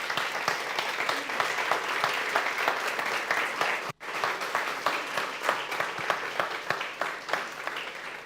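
An audience at a podcast and live session applauds three guests with steady, crowded clapping that breaks off for an instant near the middle, then continues at the same level with scattered louder claps.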